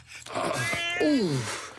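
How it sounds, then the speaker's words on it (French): A cartoon cat lets out a drawn-out, wavering yowl that rises and then slides downward, close and loud, with a voice heard just before it. "Oh non, mon chat!"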